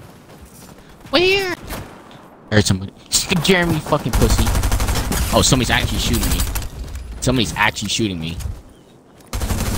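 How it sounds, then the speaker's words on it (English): Rapid bursts of gunfire in Fortnite, sharp repeated shots coming in clusters, heard under and between excited talking by a player. "Somebody's actually shooting me"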